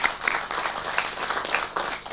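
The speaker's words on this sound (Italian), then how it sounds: "Un applauso a Daniele Giallara, a Franco De Nanni." An audience at an evening of Sardinian logudorese guitar singing gives guests a round of applause, the brisk clapping dense and close, rising and dipping slightly over its short span.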